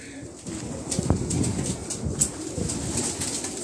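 An old-breed pigeon cooing softly in a loft, low murmuring calls with a brief wing flutter, fairly faint over background rustle, no talk.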